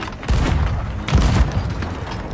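Cannon fire aboard a pirate ship in Sea of Thieves, two heavy booms about a second apart with rumbling tails over a constant background roar and no speech.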